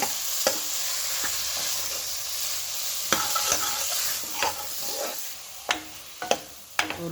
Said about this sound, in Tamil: நம்ம போட்டுட்டு ஒரு 2 நிமிஷம் போல் அப்படியே இந்த மசாலாவை வந்து வதக்கிக்கோங்க